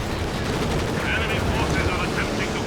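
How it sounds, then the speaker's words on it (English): High-explosive artillery barrage in the video game Company of Heroes 2, a constant rumbling wash of battle noise with overlapping blasts and gunfire, steady in loudness throughout. "Going for HE barrage."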